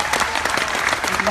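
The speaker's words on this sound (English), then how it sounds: "Give yourselves a round of applause." Audience applause at a crowded sales event hall, steady, full clapping from many people throughout, fairly loud and close.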